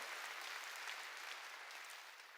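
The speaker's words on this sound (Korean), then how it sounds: "박수로 하나님께 영광을 돌리라는 겁니다." A church congregation claps together during a sermon, a continuous wash of many hands heard faint and distant, steady for a couple of seconds with no voices on top.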